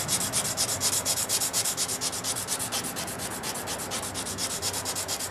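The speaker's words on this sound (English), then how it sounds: "So you take your chisel and push it from the back up." A chisel is pushed across the wood of a picture frame, making a steady, rhythmic scraping and rubbing that repeats in quick, even strokes, close and continuous throughout.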